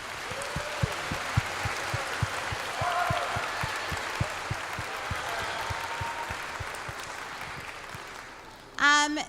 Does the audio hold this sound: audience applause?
yes